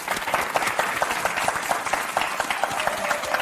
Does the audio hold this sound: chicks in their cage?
no